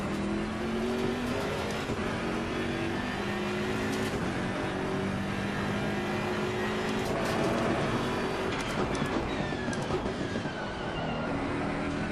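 Race car engine in the video game Assetto Corsa Competizione howls at high revs with over-revving surges and shifting tones, a continuous moderately loud engine roar with brief rattles.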